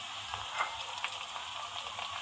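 Green chillies dropped into hot oil with lightly browned ginger and garlic, a steady close sizzle broken by a few soft ticks and clinks from stirring.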